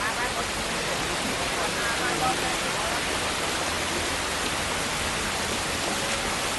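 Steady, dense rain falls in an unbroken hiss of even loudness throughout, with no distinct drops or other sounds standing out.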